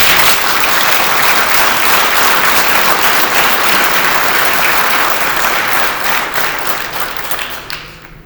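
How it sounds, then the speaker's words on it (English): Audience at a political address breaks into a sustained round of applause, dense and steady throughout before tapering off near the end, with no speech over it. "Round of applause."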